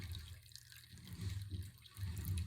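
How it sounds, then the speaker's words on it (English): Water trickles and drips off wool dyed with grape skins as it hangs to drain, soft uneven splashing in bursts with quiet gaps between. "I'm going to drip it dry here."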